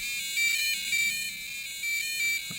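ZX Spectrum-style beeper theme music emulated through a GPIO pin with a volume potentiometer: thin, high square-wave tones in a short wavering melody, steady and alone, ending in a small click.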